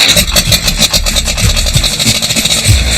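A kapenta fishing boat's engine on a Zimbabwe lake runs with a loud, close, rough pulsing drone and a rasping, scraping texture, steady throughout with no talk.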